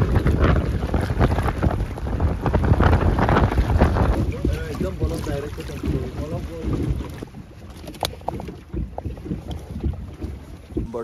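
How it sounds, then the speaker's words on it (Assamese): Strong wind blowing steadily in the aftermath of a storm, with gusty rushing noise buffeting the microphone and faint water sounds beneath, loud and continuous throughout. "বতাহজাক এতিয়াও বলি আছে"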